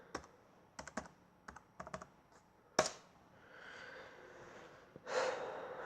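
Keys on a Dell Latitude D620 laptop keyboard clatter in short irregular bursts as a password is typed, close and fairly quiet, with breathing and soft rustling in between.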